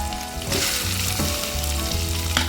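Sliced onions sizzle steadily in hot oil in a pan for Bombay chutney, with a few brief stirring scrapes over the close, continuous frying hiss.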